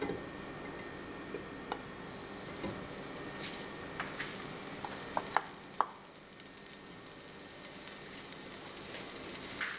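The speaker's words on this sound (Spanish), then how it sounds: "Vamos a dejar aquí a que se fría el chorizo." Chorizo frying in a pot for a lentil soup, a soft, steady sizzle with scattered light ticks and pops and a few sharper clicks, faint and without talk.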